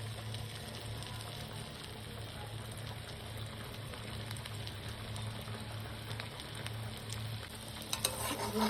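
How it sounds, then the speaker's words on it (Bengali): Chopped garlic frying in melted butter in a pan gives an even, continuous sizzle throughout, with a couple of small knocks near the end. "রসুনটাকে না একটু হালকা করে আমরা ভেজে রাখি।"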